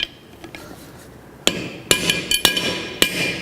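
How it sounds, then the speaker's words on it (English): Sharp metallic hammer strikes on the rear axle of a 1962 Chevrolet Impala during a disc brake install ring out, a few spaced blows then a quicker cluster, close and loud against a quiet shop background. "We're just going to take our hammer."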